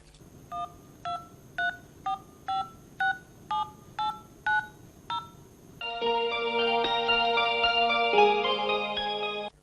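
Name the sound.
telephone being dialed to call a doctor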